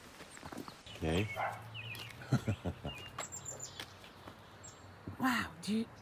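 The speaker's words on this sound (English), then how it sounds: "I think it's a brown Creeper." Brown creeper singing in a mature conifer forest in Montana, with a few thin, high-pitched notes heard at a distance. Other bird calls and people talking quietly are mixed in.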